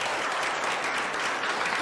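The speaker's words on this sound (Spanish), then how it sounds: "¡Aplausos para todos!" Audience applause ringing out at a live televised dance event, a steady dense wash of clapping that stays loud and even throughout with no voices on top.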